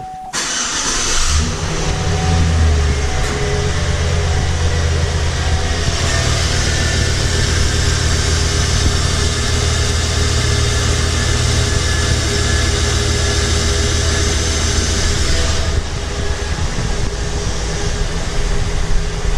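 A 2006 Chevrolet Silverado engine cranks and catches, then settles into a loud, steady idle with a slight pinging, the rumble continuing close by and unaccompanied until it drops away near the end.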